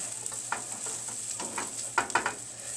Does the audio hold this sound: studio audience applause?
no